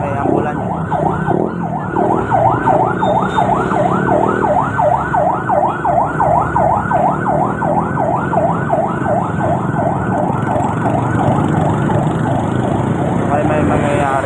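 An ambulance siren wails in fast, regular up-and-down cycles for over ten seconds, loud and fairly close, over the rumble of road traffic.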